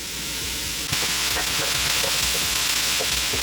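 Chopped onions hitting a hot pan still greasy from browned sausage, with a steady close sizzle and hiss throughout and a few light scraping stirs, no voices.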